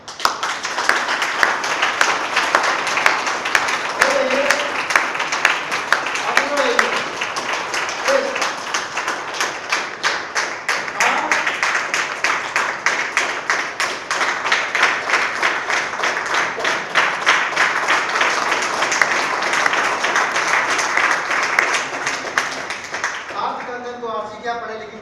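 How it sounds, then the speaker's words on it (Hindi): Vigorous applause from a training-session audience for Sanjay Pal Singh, a continuous wash of clapping lasting over twenty seconds, with brief murmurs of speech underneath and the clapping breaking off near the end. "संजय पाल सिंह जी के लिए बहुत जोर तालियां हुई हैं"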